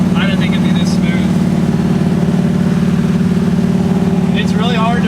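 A 1968 Camaro powered by a 540 cubic inch Cruiser big block V8 cruising on a highway, its steady low engine drone continuous throughout with occasional brief voices over it.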